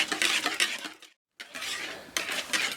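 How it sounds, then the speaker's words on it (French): Cookie ice cream batter being mixed in a bowl, a steady run of scraping, clinking strokes of a utensil against the bowl, close up, with a brief pause in the middle. "Et là, on finit de mélanger."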